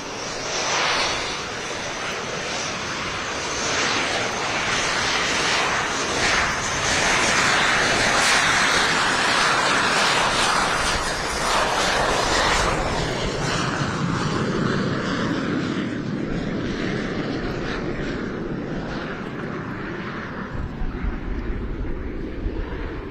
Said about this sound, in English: The aircraft taking off right now is the Lockheed T-33 Shooting Star.